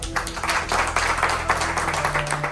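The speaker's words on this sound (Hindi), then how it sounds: "एक बार इनके लिए जोरदार ताली बजाओ यार।" An audience at a repair-shop training session claps together in a dense, continuous burst of applause, close and loud, with no talk over it.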